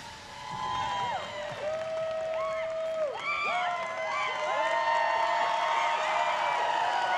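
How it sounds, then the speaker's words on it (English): A large crowd at the Patriot Games finale cheers for the girls' champion with shrill whoops and rising, falling screams over continuous applause and roar, loud and building toward the end. "the crowd's going wild"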